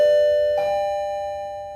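A doorbell chimes indoors, a bright two-tone ding-dong whose tones ring out and slowly fade across nearly two seconds, heard alone with no voices.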